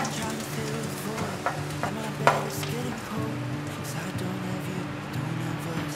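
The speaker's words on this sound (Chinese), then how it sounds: "再继续让它煎， 来回反复的翻面，已经煎成金黄色" Food pan-frying until golden, with a continuous close sizzle and repeated stirring and flipping scrapes, a few sharp utensil knocks against the pan.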